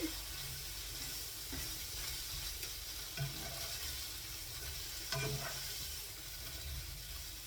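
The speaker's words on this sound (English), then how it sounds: "These are soaked up all the soy sauce and they're going all crispy." Rice soaked in soy sauce frying crispy in a pan, a steady close sizzle and crackle running throughout with occasional stirring scrapes and clicks.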